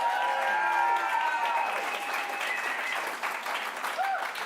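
A live comedy show audience claps for a performing group, a steady wash of applause with voices and whoops threaded through it, sustained for several seconds.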